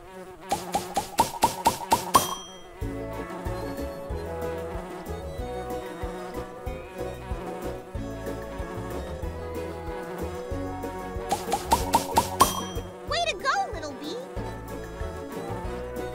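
Bumblebees in the Nature Cat video game give off a buzzing drone set among bright, plinking game music, with bursts of chiming notes at the start and again near the end.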